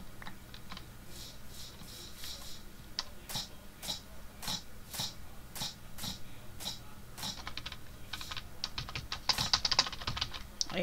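Rapid computer keyboard typing during a Minecraft session, a steady close stream of clicks and clacks with a busier flurry near the end, alone without talk.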